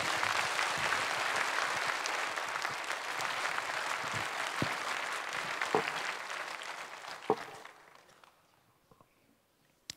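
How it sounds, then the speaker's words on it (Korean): Big congregation applause at a Korean church's Lent special dawn service, welcoming a pastor to the front; dense, steady clapping for about seven seconds that thins out and fades, with a few scattered claps and a near-silent end. "박수로 환영합니다"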